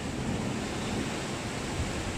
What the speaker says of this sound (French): La mer est costaud. Il y a 15-20 nœuds de vent toujours, mais la mer s'est bien levée.